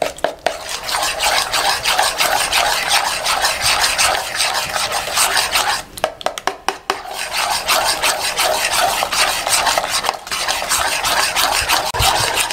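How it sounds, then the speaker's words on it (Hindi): A whisk beats yogurt, cream and sugar together in a bowl. The scraping sounds loud, close and continuous, with brief breaks in the stirring and no talk. "इसको अच्छे तरीके से मैं फेंट लूँ ताकि ये मिक्स हो जाए, चीनी भी, क्रीम भी और दही भी।"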